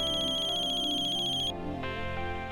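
An incoming call's phone ringtone plays a steady, bright melodic tone that cuts off partway through, leaving a softer musical bed with no talking.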